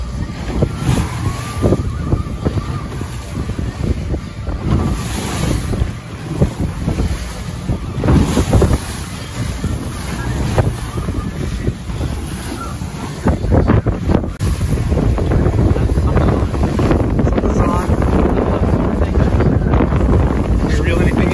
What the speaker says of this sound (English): We're in about 3 to 5 foot surf. Swells are pretty good, so a little choppy